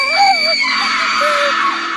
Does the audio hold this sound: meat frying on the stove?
no